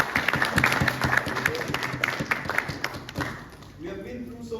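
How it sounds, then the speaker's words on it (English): Applause from graduating medical students at an oath ceremony at Sanquan Medical University in Xinxiang, Henan, a dense patter of many hands with voices mixed in, fading toward the end. "A big round of applause to my fellow classmates."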